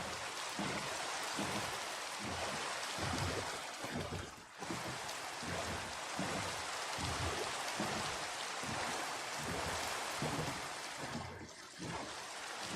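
Steady rain falls in the video game Minecraft, a dense continuous hiss of rainfall that stays loud and even throughout, with no talking.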